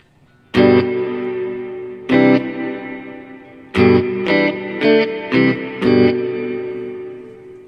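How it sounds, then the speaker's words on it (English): An electric guitar plays through the spring reverb setting of a Biyang RV-10 Tri Reverb pedal, with a few separate strummed chords and then a quicker run of short chords, each left ringing into a reverb tail. "Now I like the spring setting on this pedal"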